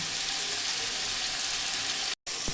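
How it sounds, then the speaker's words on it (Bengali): Spice paste sizzling in hot oil in a pan for a spicy mutton kosha curry, a steady broadband frying hiss that runs throughout and cuts out briefly near the end. "পেঁয়াজটা ভাজা হয়ে গেছে এবারে দিচ্ছে পেঁয়াজ বাটা"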